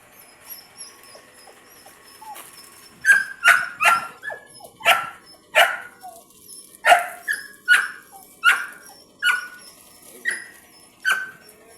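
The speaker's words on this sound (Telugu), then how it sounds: "మా యామని చూడండి ఎలా అరుస్తుంది అక్కడ చేరి" A pet dog barks repeatedly at something nearby, about a dozen sharp, evenly spaced barks after a few softer yips and whimpers, loud and close with no talking.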